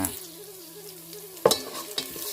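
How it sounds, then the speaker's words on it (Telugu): Black pepper and cumin seeds sizzle lightly in ghee in a pan for pongal tempering, a soft steady frying hiss with a couple of sharp stirring clinks. "ఇవి వేపేసుకోవాలి లైట్గా వేపుకుంటే చాలు"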